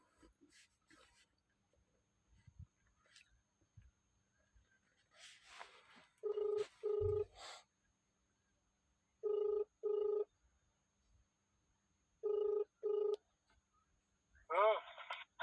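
An outgoing phone call rings through three quiet double-pulse ringback tones, spaced a few seconds apart, with faint scattered background noises between them.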